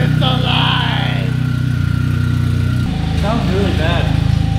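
Rear-wheel-drive converted VW GTI engine running with no exhaust fitted, a loud raw throbbing idle that drops in pitch partway through, with voices talking over it.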